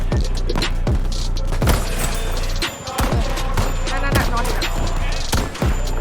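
Dense gunfire from a World War II shooter game, Battlefield V, with rapid bursts and sharp shots crackling loudly and almost continuously over several seconds alongside heavy impacts, while a player talks excitedly over it.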